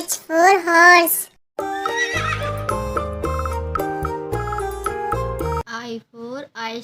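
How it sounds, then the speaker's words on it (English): A horse neighs loudly in a high whinny, then a stretch of cheerful children's background music follows, and a shorter whinnying burst returns at the end. "H for horse"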